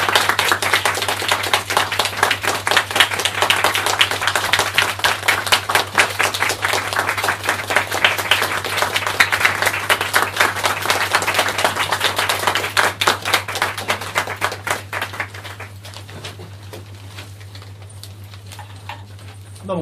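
Audience at a Japanese stage talk applauds to welcome the speakers, dense steady clapping for about fifteen seconds before thinning out and fading.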